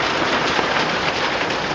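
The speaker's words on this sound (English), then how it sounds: "The hail is big." Large hail falling in a storm with a tornado watch in Salem, West Virginia, a dense, constant roar of pelting impacts, loud and steady throughout with no talking.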